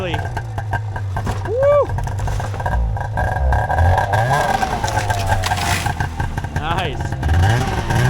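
A cheap snowmobile engine revs and surges across back-country terrain, its buzzing drone rising and falling close by, while a rider whoops and exclaims over it.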